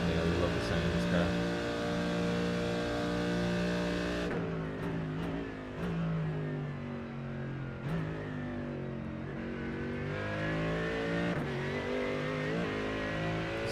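A race car engine drones steadily down the long Mulsanne straight in a racing simulation game, with a strong harmonic whine that dips briefly at each upshift and then climbs again, while a voice talks over it.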